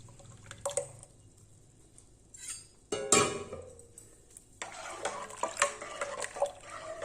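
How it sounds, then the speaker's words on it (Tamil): A spoon scrapes and stirs thick rice flour batter in a pot over low heat, with wet slaps and clinks coming in irregular bursts before a steady stirring stretch. "நல்ல கிளறிக்கிட்டே இருக்கணும் நல்லா வெந்து வரட்டும்"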